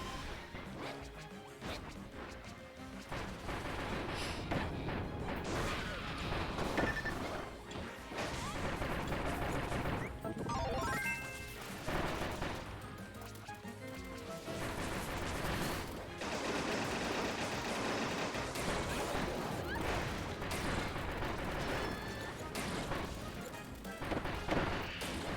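Cannon fire and crashing battle effects from the Kirby: Star Allies video game, loud and dense with repeated impacts and booms layered over game music throughout.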